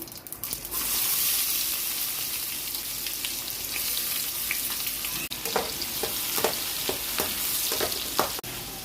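Chopped onions hit hot oil already seasoned with mustard seeds for a South Indian puffed rice upma, giving a loud steady sizzle with occasional stirring scrapes and pops, close and alone without talk.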